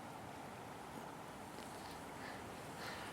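Wind blowing across a lake at a fishing spot, a faint, steady broadband rush with soft microphone buffeting and no voices.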